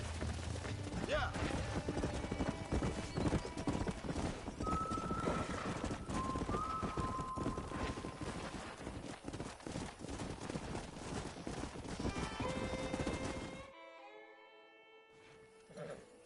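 Hooves clip-clop in a quick galloping rhythm with a horse whinnying in Red Dead, layered with other game sounds, before it cuts out near the end.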